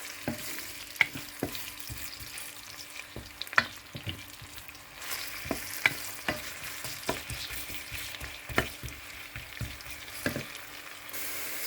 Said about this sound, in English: So I've added it with the red oil, so I have to fry it a bit.